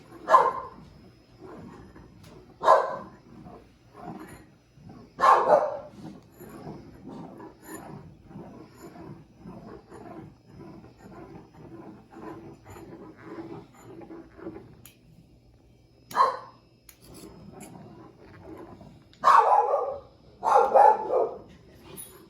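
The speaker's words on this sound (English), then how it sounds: "Pay no attention to the dog behind the curtain." A dog barks from behind a curtain in a home kitchen, with loud single barks and short bursts repeated at irregular gaps and faint room noise in between.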